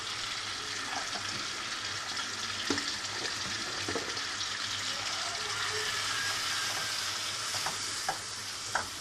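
Masala roasting in a pan for an egg masala chicken dish gives a steady close sizzle and frying hiss, with occasional scraping stirs and small clinks throughout.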